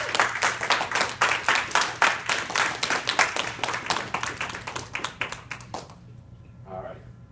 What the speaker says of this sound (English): Let's give Sujit a big round of applause.